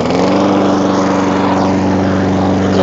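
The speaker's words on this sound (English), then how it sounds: "Gonna do a little video here of me mowing with my mower." A Troy-Bilt 21-inch walk-behind lawn mower cuts through tall brome grass, its engine droning loud and steady at close range with a constant low hum and no talk.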